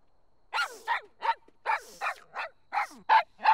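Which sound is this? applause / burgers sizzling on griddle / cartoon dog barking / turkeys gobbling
cartoon dog barking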